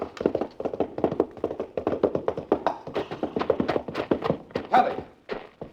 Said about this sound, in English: The horse stumbled over that lower bar and threw her.